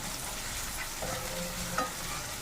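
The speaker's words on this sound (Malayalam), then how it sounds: "സവോള കരിയാപ്പില ഇച്ചിരി ഇടാം നല്ലോണം ഒന്ന് വഴത്തിയെടുക്കാം" Onion and curry leaves sautéing in a pan, heard as a steady close hiss of frying with a faint stir or tap near the end, alone without speech.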